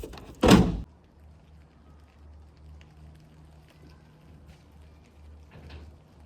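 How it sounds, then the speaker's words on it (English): The hood of a 12V Cummins 2nd Gen truck slams shut in one loud, close thunk near the start, followed by quiet low background hum and a faint rustle near the end. "I wanna go ahead and close the hood"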